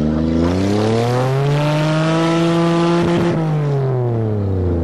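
A manual-transmission Toyota on a farm is floored at full throttle, and its engine climbs in a strong, steady rev that sweeps upward and then eases off, loud and close throughout with no talking.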